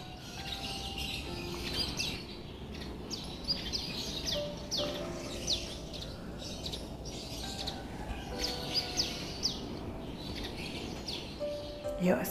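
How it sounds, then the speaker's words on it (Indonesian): Many birds chirping and singing in a green resort-style garden with trees and grass, scattered close and distant calls over a soft outdoor background. "ada banyak banget nih suara burung"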